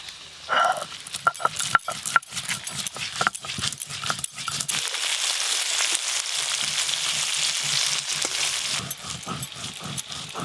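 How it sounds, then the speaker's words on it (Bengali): Small river fish frying in a pan of hot oil, a steady sizzle rising in the middle, broken by clattering knocks and scraping of a utensil against the pan. "ছোট মাছ এক খোলা ভাজা হয়ে গেল, তুলে নেব।"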